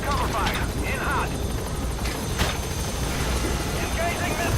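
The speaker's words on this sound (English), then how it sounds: "Support helicopter." Support helicopter in the Metal Gear Solid V combat game, a steady rotor drone running under continuous loud battle noise with intermittent gunfire bursts and radio-style voices talking over it.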